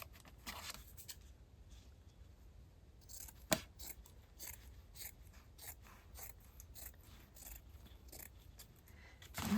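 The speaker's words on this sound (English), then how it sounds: "Cut a piece for there, and then maybe we can just use this piece of fabric so that they'll be the same size" Scissors snip repeatedly through a piece of fabric at a crafting table, a run of close, crisp cuts with short pauses in between, one sharper click standing out among them and no talk.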